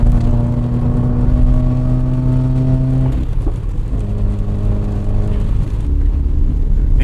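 A car engine in a racing video game drones steadily and loudly, its pitch holding and then dropping around a gear change before climbing again, with no voices over it.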